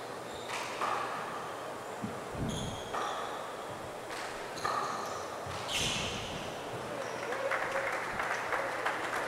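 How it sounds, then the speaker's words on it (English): Mild, scattered applause from the crowd at a men's pro racquetball quarterfinal, quiet and distant, under a commentator's voice, with sharp ball and court sounds popping through. "just a kind of a mild clapping"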